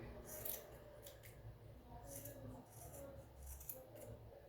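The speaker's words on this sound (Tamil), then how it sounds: "இனி நம்ம இதை கையில் பிடிச்சிட்டு இதை நம்ம கட் பண்ணுறோம்" Scissors cutting craft material for handmade flowers, a few quiet snipping strokes in short bursts, close but faint over low background noise.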